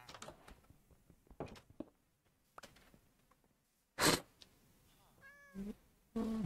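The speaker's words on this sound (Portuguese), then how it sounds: "Outro gatinho, fofinho. Adoro gatos." A cat meows in a video game, a few soft sliding cries heard near the end after scattered quiet clicks and rustling in-game sounds, fairly faint overall.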